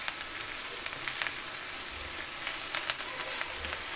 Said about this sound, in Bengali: রাইসটা দিয়ে সবজির সঙ্গে নেড়ে চেড়ে মিশিয়ে নিব।